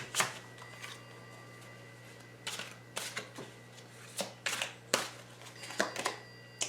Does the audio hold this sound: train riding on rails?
no